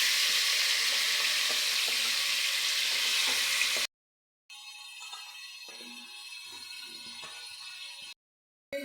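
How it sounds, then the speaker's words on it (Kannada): Washed country chicken hits hot oil and sizzles in a loud, steady hiss, then quieter frying continues after a brief cut, with faint stirring scrapes underneath. "ಈಗ ಚಿಕನ್ ತೊಳೆದಿಟ್ಕೊಂಡಿರೋದನ್ನ ಸೇರಿಸ್ಕೊತಾ ಇದ್ದೀನಿ"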